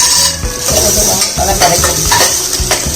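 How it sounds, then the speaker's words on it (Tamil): Whole spices such as cloves and cardamom, with green chilli and turmeric powder, sizzle and are stirred in a pan, a steady close frying hiss broken by repeated scraping and clinking strokes of a spoon. "கிராம்பு, ஏலக்காய் எல்லாம் ஒரு வதக்கி, பச்சை மிளகாய், மஞ்சள் பொடி"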